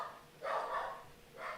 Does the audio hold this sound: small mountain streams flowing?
no